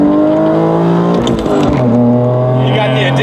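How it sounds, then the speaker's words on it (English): A BMW M3 engine in sport mode revving hard and close, rising and falling in pitch through the gears, loud and continuous. "car sounds amazing"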